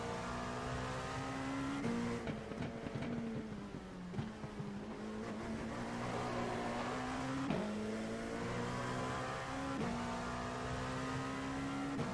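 Race car engine at Daytona International Speedway, loud and steady near the driver, with sharp pitch drops at each downshift and repeated revving through the gears, alone without talk.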